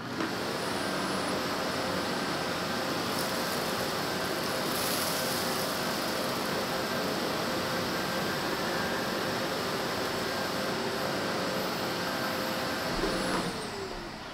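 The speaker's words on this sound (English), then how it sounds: "you're going to hear the real sound of the vacuum cleaner" A Bosch vacuum cleaner roars steadily on carpet with a loud, even whooshing drone and a thin high whine, running continuously without pause.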